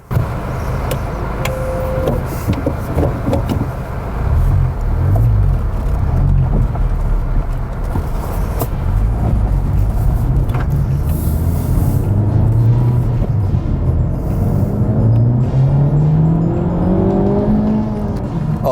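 A 2019 Honda Civic Type R pulls hard in second gear in racing mode, its engine note climbing loudly and steadily from inside the cabin, rising in pitch over a long acceleration with road and wind whir beneath.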